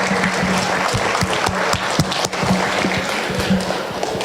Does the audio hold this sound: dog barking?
no